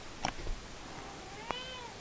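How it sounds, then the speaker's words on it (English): A house cat named Duna meows nearby in a quiet room: a short cry followed by a clearer, drawn-out meow. "Sorry, cat keeps interrupting me."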